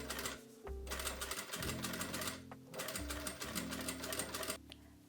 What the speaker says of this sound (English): Now fold it up by 1 centimeter and top stitch.